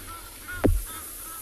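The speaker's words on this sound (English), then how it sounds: "Egyptian geese flying over." Egyptian geese on an evening safari give a single loud honk as they fly over, rising briefly above a steady low background hum with faint distant calls.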